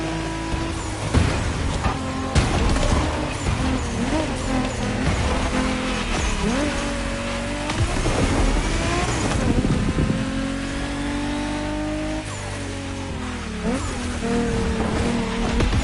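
Several race cars in The Crew Motorfest roar together through a race, engines revving and shifting with tire squeals and skids, loud and continuous throughout.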